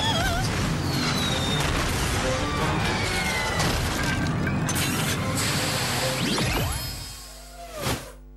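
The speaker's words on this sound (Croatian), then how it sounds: "U smrtnoj opasnosti od nadolazećih topovskih čuladi!" Cartoon-style cannonball barrage on a pirate ship: a dense, busy mix of whooshes, booms and crashing hits runs throughout, fading near the end before one last sharp burst and a quick whistling sweep.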